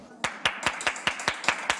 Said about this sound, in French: Frappez dans vos mains pour contaminer le public.